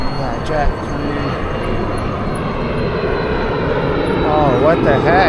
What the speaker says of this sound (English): That jet was coming into land and then it pulled up and out.